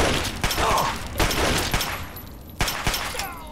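Pistol shots in Fallout 3, several sharp, loud cracks spaced irregularly over about three seconds, each followed by a short decaying tail amid continuous game noise.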